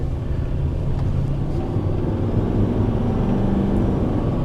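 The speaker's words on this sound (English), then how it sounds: "We're just gonna get into the highway, go through all the gears, and see how it shifts then." A truck with a wiring fault cruises on a highway, giving a steady, loud, low engine and road rumble from inside the cab. Individual gear shifts are not clearly marked.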